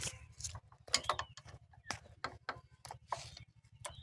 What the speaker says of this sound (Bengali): এখন নাটগুলো টাইট দিলেই মেশিন সেটিংয়ের কাজ শেষ হয়ে যাবে